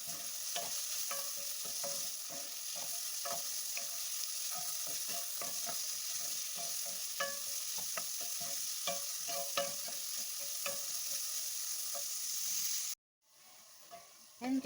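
Carrots and onion sauté in a hot pan, a steady sizzle running throughout with repeated scraping stir strokes, close and loud, before cutting off abruptly near the end.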